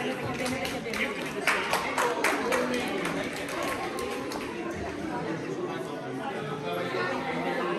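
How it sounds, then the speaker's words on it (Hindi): Applause from a church audience at an Urdu-language Christmas gathering in Antwerp, a sustained patter of many hands clapping at moderate distance, mixed with crowd chatter throughout. "जोरदार तालियां"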